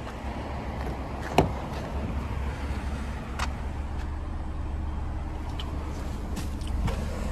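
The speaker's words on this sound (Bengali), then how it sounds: "গাড়ি চলছে" A 2019 Hyundai Accent with about 245,000 km on it runs with a steady low engine drone, a single sharp knock early on, and faint passing road noise, with no speech.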